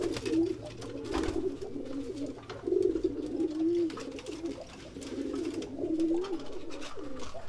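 A domestic racing pigeon coos repeatedly, a soft throaty burbling in several phrases, close and steady over low background hum.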